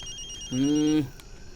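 A telephone rings once, a bright electronic ringtone lasting about half a second, with faint tonal hum around it, in a Hindi-dubbed South Indian action film.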